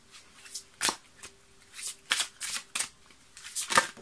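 A large, bulky deck of tarot cards being shuffled gives bursts of close papery riffling and slapping, uneven and spaced out with quiet gaps between them.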